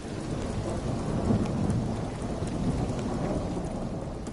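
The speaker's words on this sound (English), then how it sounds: "I noticed it. Besides like the rain," Steady rain with rolling thunder in a video game, a continuous loud wash of rainfall under a low rumbling that swells in the middle, with no voices.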